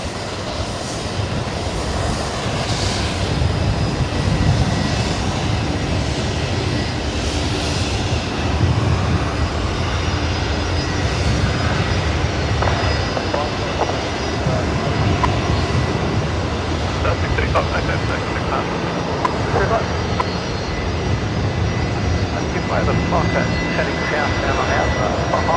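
A Jetstar Airbus A320 rotates and takes off from Brisbane Airport at night, a sustained broad jet roar rumbling steadily in the distance for the whole stretch.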